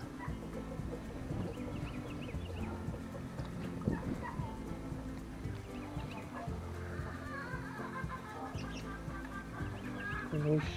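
Chickens cluck and gobble softly nearby while being fed fish scraps outdoors, scattered faint clucks over a low background.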